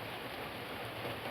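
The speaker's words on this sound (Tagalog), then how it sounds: "rami ng ulan, lakas din ng ulan" Heavy rain pours steadily during a stormy downpour near a rising river, a dense continuous hiss filling the air, loud and unbroken, with no voices.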